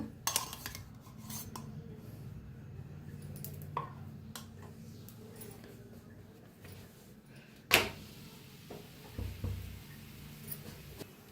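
Faint, sparse taps and clinks come from a utensil on a pan as a sweet peanut poli is turned and coated with oil and ghee, with one sharper knock partway through in an otherwise quiet kitchen.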